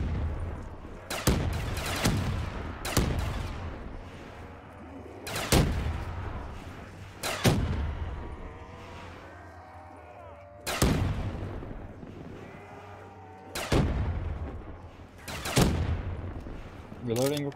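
Pistol fire in Black Ops 3 custom zombies: sharp, loud gunshots come in irregular bursts of one to three, with sounds of the game between them.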